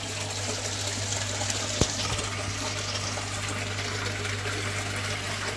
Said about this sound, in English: Just going to do a water change now.